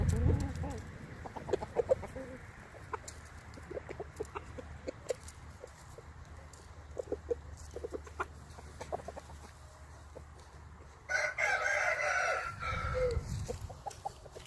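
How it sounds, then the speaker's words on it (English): A rooster crows once, close and loud, over steady farmyard ambience with scattered clucks and bird chirps. "Really handsome rooster."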